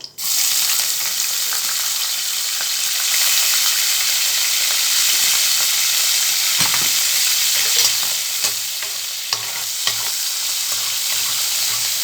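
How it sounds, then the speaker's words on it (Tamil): Dried anchovies fry in hot oil in a pan, a loud, dense, continuous sizzle with crackling, near and alone, with a few stirring knocks later on. "இப்போ இந்த ஆயில் காய்ஞ்சதும் இந்த நெத்திலி கருவாடு வறுத்து எடுத்துக்குவோம்."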